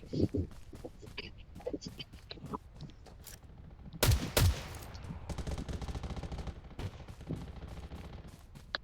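Gunfire in the video game Garena Undawn: scattered single shots early, then a loud close burst and sustained rapid fire, with some talking mixed in.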